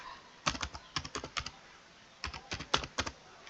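Quick bursts of keyboard typing, two clusters of rapid clicks separated by a short pause, close and fairly quiet.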